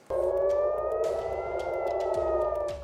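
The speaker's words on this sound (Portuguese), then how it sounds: "O som das sirenes alertava os israelenses sobre o perigo que vinha do alto" A loud, steady wailing air raid siren warning of incoming attack in Israel sounds continuously, its tone holding level with faint distant clatter underneath.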